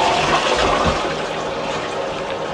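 A household toilet flushes nearby, a steady loud rush of water and draining that fills the whole stretch without pause, heard while checking drains and plumbing.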